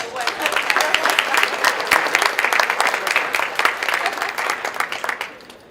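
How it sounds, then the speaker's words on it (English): Conference audience applause after a vote at a keynote session, a dense clatter of many hands that stays lively and fairly close, then tapers off at the end. "Let's give them a round of applause."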